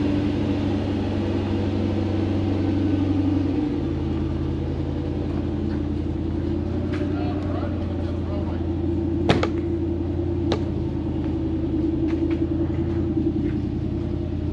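A 2014 two-wheel-drive Toyota Hilux fitted with an LS2 6-litre V8 on a gentle test drive, its steady low engine rumble and road drone continuous from inside the cab, with a shift in tone partway and a few faint clicks.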